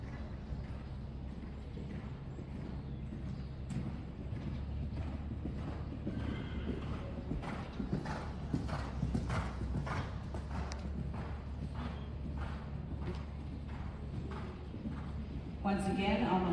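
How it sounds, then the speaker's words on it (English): Horse cantering in a dressage arena at a competition, hooves clip-clopping in a steady three-beat rhythm, fairly close, with an occasional snort or whinny amid low background noise. "lengthen the stride and canter"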